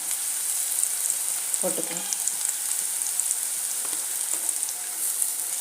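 Onions sautéing in a pan for momo filling, a bright, steady hiss of frying oil up close, with a brief burst of stirring midway and a faint voice now and then.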